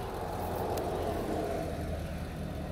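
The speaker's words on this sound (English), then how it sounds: "Now this guy is parking next to me and leaving his truck running." A parked truck's engine idles nearby with a steady low rumble throughout.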